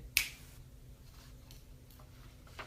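A single crisp finger snap rings out close and sharp near the start, followed by near silence with a faint room hum and a soft click at the end.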